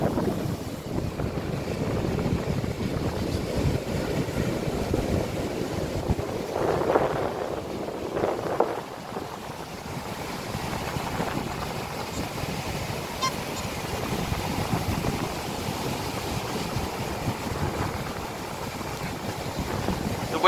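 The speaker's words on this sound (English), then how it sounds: "Waves are coming up all the way to here where I'm at." Ocean waves washing up a beach in strong wind, a continuous broad rumble of surf with gusts buffeting the microphone, steady and close throughout with no talk.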